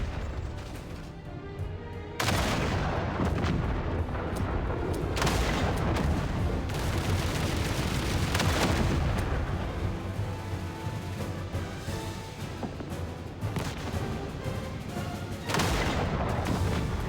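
Dense battlefield combat from the video game Duet Night Abyss: continuous gunfire and booming artillery blasts in rapid bursts, loud and close, forming a sustained barrage with several sharp louder hits.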